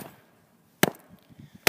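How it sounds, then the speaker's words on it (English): Two sharp, loud metal blows from hammering an aluminum ingot forged from melted cans, spaced about a second apart with faint outdoor background between them. "Sounds like gunshots in the distance, but it's just us hammering."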